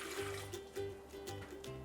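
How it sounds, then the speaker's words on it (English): Three quarters of a cup of water is poured into a rice cooker, making a faint, close gurgling trickle with a few uneven surges. "I'm going to add 3/4 cup of water and put that directly into my rice cooker"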